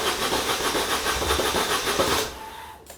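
Moto Guzzi Breva 750 motorcycle with an electrical fault, ignition switched on and a cranking attempt: a steady, loud mechanical whir and hiss runs for about two seconds, then cuts off into quieter noise.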